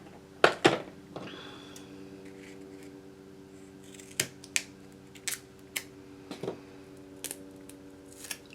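Scissors snipping a strip of sticky foam tape for a recycled Christmas snow jar card, with sharp isolated clicks and snips scattered across the clip, a couple of louder cuts early and quieter ones later, close up with no talking.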